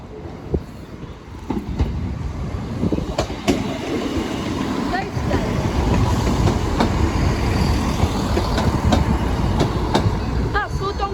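Black 5 steam locomotive 44871 runs past Sleaford East level crossing, a steady loud rumble of wheels with rhythmic clicking over rail joints building and holding close throughout.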